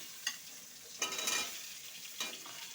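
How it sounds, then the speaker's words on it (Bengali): Diced potatoes sizzle alongside onions in hot oil in a pan while being stirred for a Bengali fish curry, with a low steady frying hiss broken by a few sharper scraping stirs and spatters. "আলুটা আমি একটুখানি ভাজবো পেঁয়াজের সাথে।"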